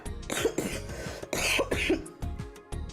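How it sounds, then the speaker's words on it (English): Several harsh coughs and throat clearing in quick bursts, close and fairly loud, separated by short pauses. "I'm trying so hard not to cough as much"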